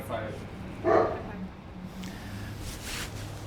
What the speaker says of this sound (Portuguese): eu vou esperar ele parar de latir um pouquinho